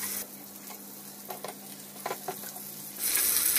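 Prawns stir-fried in a frying pan with a steady low sizzle, faint and close, broken by a few soft scraping stirs and light clinks, with the frying rising louder near the end.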